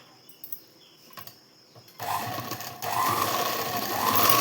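Sewing machine running stitches on a blouse, starting softly with a few light clicks, then whirring steadily and growing louder toward the end, close and alone.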